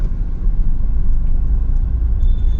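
Street traffic in narrow lanes in Rajasthan, a steady loud low rumble of passing vehicles close by, with no distinct horns or voices.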